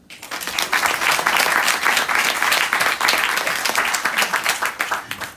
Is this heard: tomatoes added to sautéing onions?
no